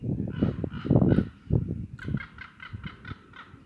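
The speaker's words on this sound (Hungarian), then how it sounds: "a hollók károgása Budapesten" Ravens in Budapest give a series of harsh, croaking caws, loud and close at first, then a quicker run of shorter repeated calls, with no voices.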